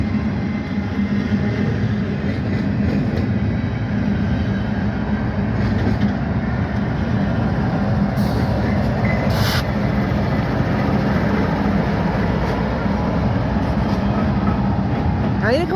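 A CSX freight train rumbles steadily past at close range with a middle DPU locomotive, making a loud continuous low roar of rolling wagons and wheel noise, while a person talks over it.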